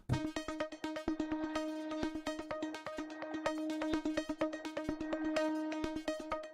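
Rapid repeated synth notes from Heavyocity Gravity 2 with drive saturation, a buzzy, driven tone, plucked in a quick steady rhythm on a couple of pitches, moderately quiet with no voices.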